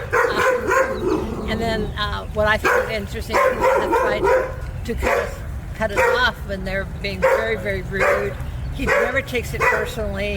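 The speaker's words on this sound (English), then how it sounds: "There's a dog going by and my dog knows it." A dog barks at another dog passing by, inside a moving Tesla Model Y: repeated woofs and yips come in bursts under steady conversation.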